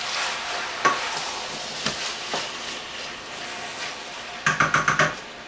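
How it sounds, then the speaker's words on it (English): Marinara sauce with tomatoes is stirred in a hot pot, a soft steady sizzle with a few spoon knocks, then a quick run of five sharp clinks against the rim. "I'm going to give it a quick stir."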